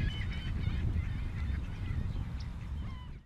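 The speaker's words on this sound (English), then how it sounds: "You can hear the gulls making quite a racket in the background." A noisy chorus of gulls squawks and calls repeatedly over a low rumbling background at Como Lake in St. Paul, Minnesota, during spring migration, several birds crying at once.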